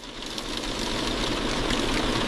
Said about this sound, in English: Oh, oh, oh, that engine is loud.